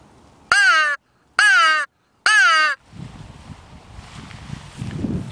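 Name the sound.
crow call device imitating crow caws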